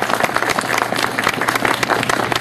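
An audience at a Charlottesville 250 time capsule ceremony breaks into sustained applause, a dense, even wash of many hands clapping close and loud throughout.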